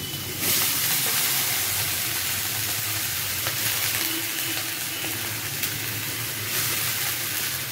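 Thinly sliced pieces hitting hot oil in a steel kadai, a loud sizzle that jumps in and then holds as a dense, steady hiss close by.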